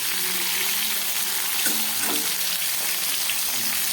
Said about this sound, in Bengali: একটু ভেজে নিই কপি আলুটা হালকা করে ভেজে নিলাম